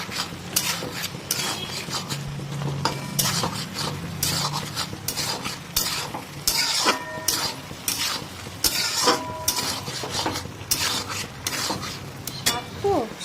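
Red amaranth greens are stirred dry in a pan over a raised gas flame, with repeated scraping and clattering strokes over a steady close sizzle.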